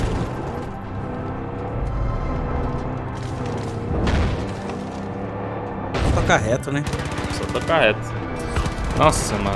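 Gunfire in the Far Cry 5 video game crackles in short bursts and single shots, some close and punchy, mixed with game sounds while two players talk over it.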